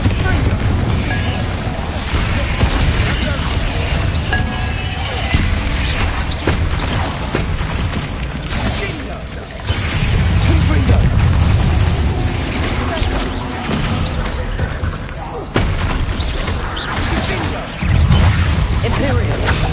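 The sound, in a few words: Confringo explosive spell blasts in the Hogwarts Legacy video game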